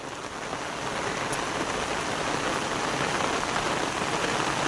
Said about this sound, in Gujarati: કડાકાંડ ભળાકાંડ વરસાદ ચાલુ